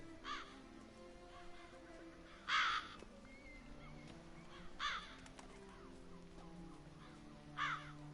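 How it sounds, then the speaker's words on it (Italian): Crows caw in The Witcher 3: Wild Hunt over a low, sustained ambient drone. Four short, harsh calls come at spaced intervals, with the second the loudest. "Ma è normale che ci siano tutti sti corvi?"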